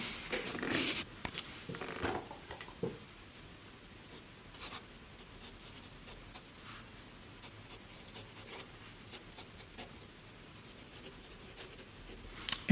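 Pilot fine-grade dip pen nib scratching across paper in short strokes and pauses, soft and close, with a few louder scrapes near the start and no talking.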